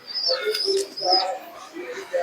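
Pigeons kept for sale in West Bengal coo close by, a few soft, rolling calls with brief higher chirps, while a person talks.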